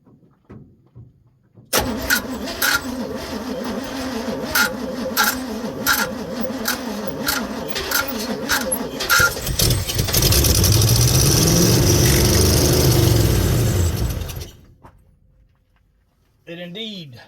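A 1971 Chevy C10 pickup engine, sitting unused for twenty years and lacking a carburetor, cranks with a rapid rhythmic chug, catches and runs roughly for several seconds before cutting off, with voices talking over the cranking.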